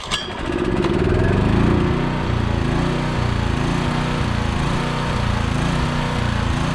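A John Deere 1100A generator engine starts up and runs steadily under load, a loud, continuous droning hum with a rough, throbbing low pulse that holds for several seconds.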